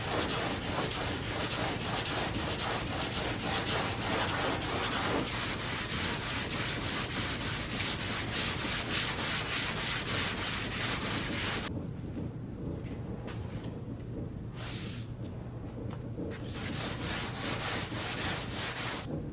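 Sanding a thin primer coat on a C10 show truck hood, a close, continuous rhythmic scrubbing rasp of even back-and-forth strokes that briefly drops off before resuming strongly.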